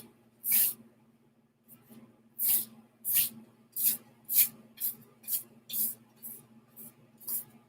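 Gesso being brushed onto canvas in straight vertical strokes, about a dozen soft, close bristly swishes in an uneven rhythm, quiet with near silence between them.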